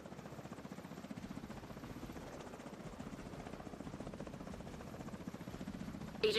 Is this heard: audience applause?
no